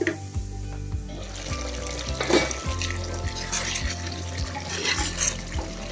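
Sautéed onions for an Angamali-style Kerala pork and koorka curry sizzle and fry steadily in a pan, with a broad continuous hiss and some stirring and watery clatter. No one speaks.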